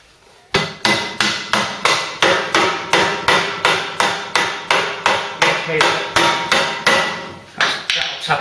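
Hammer blows tapping out a bush on a Ford Cortina, about fifteen sharp, even strikes at a steady rhythm, close and loud, with no talking.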